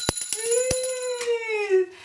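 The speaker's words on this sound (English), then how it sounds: "we're going to ring this bell" A small bell rung once by hand, a bright metallic ding with a long ringing tone that slowly fades over about two seconds, preceded and accompanied by a few sharp clicks and taps close by.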